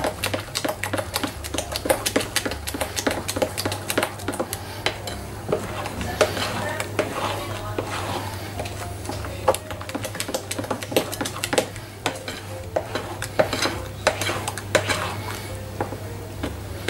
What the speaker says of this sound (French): Et on va bien mélanger le tout encore.